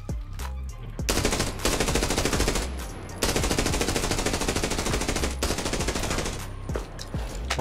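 Sustained automatic M4A1 rifle fire in the video game Arena Breakout, loud continuous bursts with brief pauses between strings of shots, no talking.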